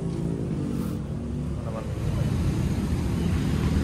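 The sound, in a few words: Honda Civic FD engine revving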